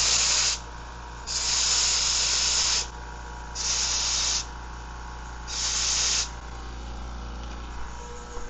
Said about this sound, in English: go over to the air compressor and blow out the excess with compressed air